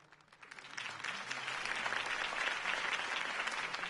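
A crowd in the Batman video game bursts into applause, the clapping swelling quickly from a few hands into steady, dense cheering-free ovation that carries on without voices.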